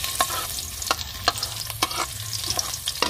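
Garlic sautéing in hot cooking oil, a steady close sizzle broken by repeated sharp scrapes and clinks of a spatula stirring against the pan, no voices.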